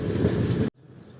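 Guruvayur–Madurai Express rumbling along near Ernakulam Town station, a loud steady roar of wheels and rushing air that cuts off abruptly, leaving quieter rolling hum.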